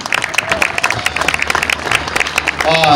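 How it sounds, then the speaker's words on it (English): A crowd gives a big round of applause for the 1986 Australian World Cup-winning lacrosse team at a presentation held under shelter. The clapping is dense and close, and a voice comes in briefly near the end. "let's have one last massive round of applause for this record gold medal winning team."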